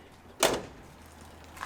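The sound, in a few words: truck door popping open after key press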